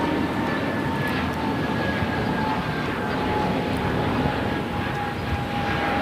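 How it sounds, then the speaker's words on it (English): A Frontier Airbus A320neo takes off from runway 25 Right at LAX, bound for Phoenix, producing a steady, loud jet roar that holds unbroken throughout with a faint whine riding on top and no voices. "3644 taking off to Phoenix on the A320 Neo"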